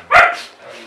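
Single sharp bark from a dog in a kennel, loud and close, followed by a fainter trailing yelp.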